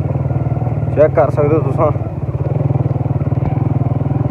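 A 125 cc motorcycle engine idles with a steady low throbbing rhythm outside the main gate of Derawar Fort in Cholistan. It runs close and loud throughout, while someone talks over it.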